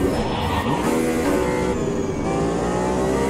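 A race car engine in fifth gear drones loud and steady in Automobilista 2, its strained, buzzy tone climbing slightly as it holds the revs without a break.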